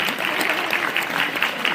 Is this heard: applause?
yes